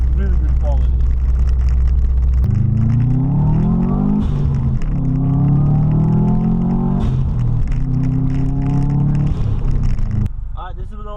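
A Subaru WRX with an Empire Performance turbo-back exhaust drives and accelerates, the exhaust note rising in pitch through several gear pulls, loud and close, with a deep burble between shifts.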